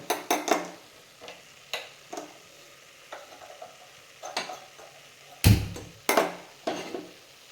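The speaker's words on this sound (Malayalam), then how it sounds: "നമുക്ക് വെജിറ്റബിൾസ് വെളിച്ചെണ്ണയിൽ ഒന്ന് വരട്ടിയെടുക്കാം" Vegetables sautéing in coconut oil in a three-layer pan, heard as soft sizzling broken by irregular loud stirring scrapes and clanks of a utensil against the pan, with no talking.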